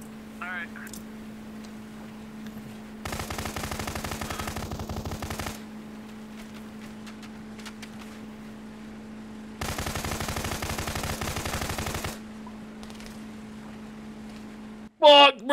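A helicopter in Arma 3 fires two long bursts of rapid automatic gunfire, each lasting a couple of seconds, separated by quieter stretches over a steady engine-like drone, ending with a sharp loud blast.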